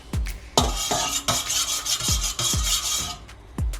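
Whipped body butter being mixed with vitamin E oil, heard as loud close rasping, scraping strokes of a utensil against a bowl in an uneven rhythm, with soft thuds between them.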